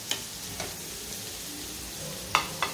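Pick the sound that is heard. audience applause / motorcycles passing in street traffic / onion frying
onion frying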